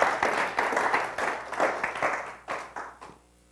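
A church congregation claps in response to a preacher, a group of quick, distinct hand claps in uneven bursts that thin out and stop near the end.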